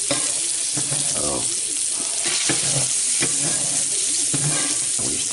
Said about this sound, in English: we stir it around.